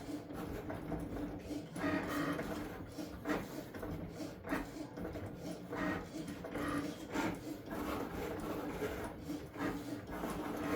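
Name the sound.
Cricut Maker 4 cutting machine running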